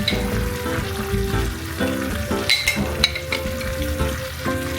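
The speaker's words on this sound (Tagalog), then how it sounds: "Tapos, lalagyan na natin siya ng tomato sauce." Tomato sauce goes into a hot pan and sizzles loudly and steadily, with stirring clatter and a few sharp metallic taps from a utensil against the pan, close and without speech.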